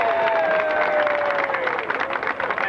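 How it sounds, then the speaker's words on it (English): Applause from the crowd at a Hollywood Walk of Fame ceremony for William F. Hertz, dense sustained clapping with a faint tone running underneath, loud and steady before thinning slightly at the end. "let's have a big round of applause for Mr."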